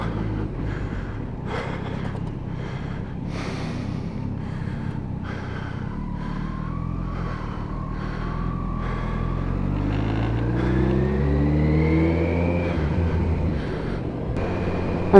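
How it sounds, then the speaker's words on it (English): A motorcycle revs after a bump start, a steady engine drone building as rising pitch sweeps climb, then falling off, with a few breathy puffs early on. "After having a bump start revs the bike"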